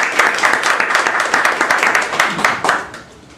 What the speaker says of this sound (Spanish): Invitamos por favor al profesor Antonio y el aplauso para él.